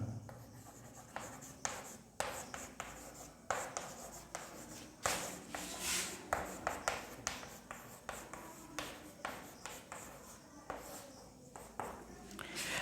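Chalk or marker scratches across a classroom board in short rhythmic strokes and taps, steady and fairly close, with faint room noise and occasional soft voice in the background.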